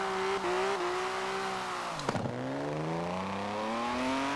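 A BMW E34 M5 V8 drift build in Forza Horizon 4 holds a steady low-rpm drone, briefly dips with a short burst of noise, then climbs smoothly back up in pitch.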